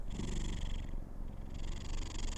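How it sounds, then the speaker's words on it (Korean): A cat purrs steadily while drifting off to sleep, a close, soft, rhythmic rumble with a faint airy breath cycle, alone with no talking. "편안하게 골골송을 부르면서 잠이 듭니다"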